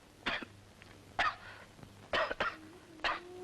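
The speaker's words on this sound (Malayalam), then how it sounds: "എന്താ ഇങ്ങനെ ചുമക്കുന്നത്?" A person coughing in a quiet indoor room, a series of about five short, dry coughs with throat clearing, fairly faint, spaced irregularly with silence between.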